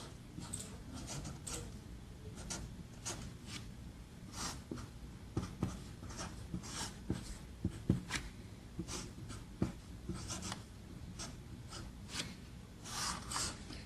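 Pen or marker writing mathematical relations on a surface, a steady run of short scratchy strokes and taps close by, continuing throughout with no talk.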